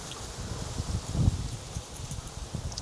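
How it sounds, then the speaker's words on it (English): Gusty wind blowing through a garden, with soft rustling and buffeting that swells and fades, low and close, without talk. "Oh man, it's windy"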